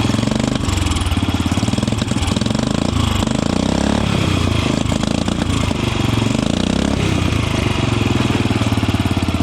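An old Royal Enfield Bullet Machismo 350 AVL engine runs without a silencer after restoration, giving a loud, raw, steady thumping idle with a harsh mechanical clatter that continues close and uninterrupted throughout.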